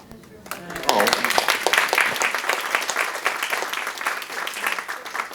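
Audience at an author talk and Q&A breaks into applause, a dense wash of many hands clapping that swells after a brief pause and holds steady, with a faint voice at the start.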